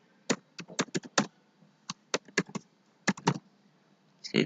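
Bursts of computer keyboard typing, quick clustered keystrokes separated by short pauses, close and fairly quiet, as Java code for a JUnit test is written in Eclipse.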